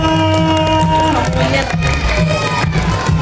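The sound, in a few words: audience applause and cheering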